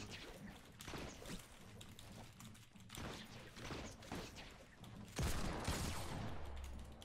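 Rapid gunfire bursts from a Fortnite match during an end-game fight, quiet and busy with clicks and game effects, growing louder and denser toward the end.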